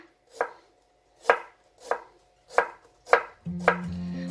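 A knife slices through Korean daikon radish on a cutting board, six crisp, evenly spaced cuts, close and clear, with a steady hum starting beneath the last two strokes.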